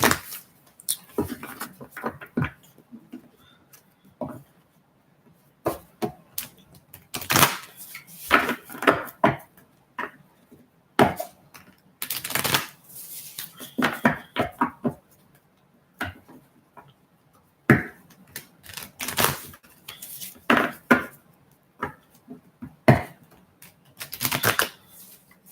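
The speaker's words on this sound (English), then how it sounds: "So I'm shuffling for you." A deck of playing cards being shuffled at a table during a reading, with repeated crisp riffling bursts and clicks in irregular clusters, fairly close and moderately loud, mostly on its own with little talk.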